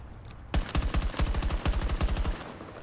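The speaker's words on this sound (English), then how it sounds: "Just got drilled by an AK." An AK rifle fires in Battlefield 2042 Breakthrough mode on an icy map: rapid, close bursts of automatic gunfire in a tight, rhythmic stream lasting nearly two seconds.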